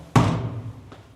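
A door in an abandoned museum in Syria thuds once loudly as it is pushed open, the boom ringing briefly through the empty room before a faint second knock.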